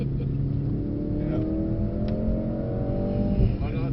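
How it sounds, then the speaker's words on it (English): Mercedes-Benz car on a track day at Brooklands, its exhaust droning steadily with a deep engine note close by from inside the cabin, rising slightly near the end. "I like the sound of the exhaust."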